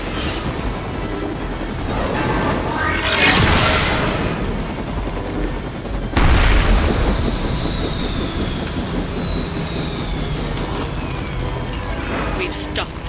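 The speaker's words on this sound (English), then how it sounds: "We've stopped the helicopter." Helicopter rotor and engine roar in the video game Marvel's Midnight Suns, a continuous loud wash that swells and passes twice, with bursts of gunfire and battle noise mixed in.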